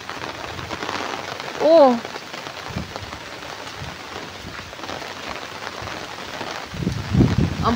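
Heavy rain pours steadily over a rice paddy in the Philippine countryside, a loud, dense hiss that continues throughout, with a brief distant rumble. A woman gives a short exclamation partway through.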